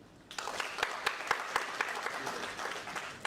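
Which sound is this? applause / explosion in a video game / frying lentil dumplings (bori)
applause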